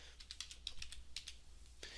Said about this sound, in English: you can just begin typing Times New Roman in the box here